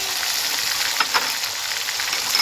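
Garlic paste and cumin paste fry in a pan for a katla fish and cauliflower curry, giving a loud, continuous close sizzle broken by a couple of quick stirring scrapes.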